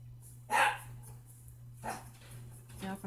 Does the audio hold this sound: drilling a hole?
no